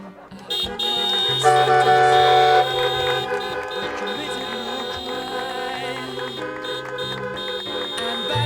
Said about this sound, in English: Now you can beep your horns.